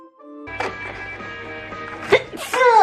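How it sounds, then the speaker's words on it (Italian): A single sharp sneeze bursts out near the end after a brief held breath, close and loud in a quiet room. "Tra poco mi sentirete starnutire."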